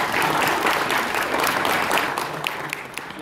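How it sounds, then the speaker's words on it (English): A conference audience at a Ford Motor Company trends event claps steadily for a speaker coming to the stage, with dense, close applause that thins slightly toward the end. "So please give him a round of applause."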